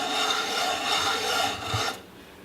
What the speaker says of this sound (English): Move it around on the sandpaper.